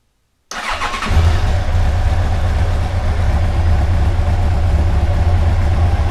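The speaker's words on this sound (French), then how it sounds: "on va pouvoir mettre le moteur en route" Silence, then a Yamaha FJR 1300 motorcycle engine cranks and catches, settling into a steady, loud, low idle with a throbbing rumble that continues evenly.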